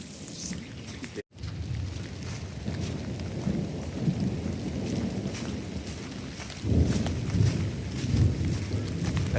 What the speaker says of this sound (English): pretty active thunderstorm right now.